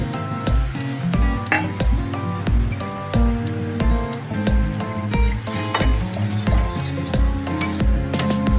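Ginger paste and chopped raisins go into a hot pan for a Bengali potoler dorma. A steady sizzle runs under clinks and stirring, and background music with a rhythmic beat plays throughout.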